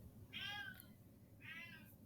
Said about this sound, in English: Even the cat thinks it's weird.